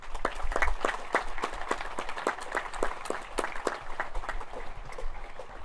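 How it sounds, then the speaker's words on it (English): Outdoor Memorial Day ceremony audience applauding, a steady wash of many hands clapping at moderate distance with dense overlapping claps throughout. "A round of applause for all our guests."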